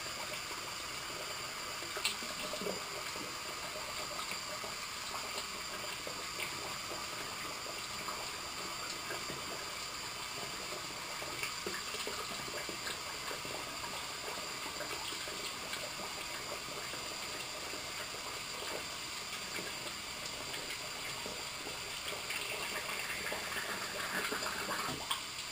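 Steady, continuous running tap water flows close by during a double-edge safety razor shave, an even rush with no breaks and no talking.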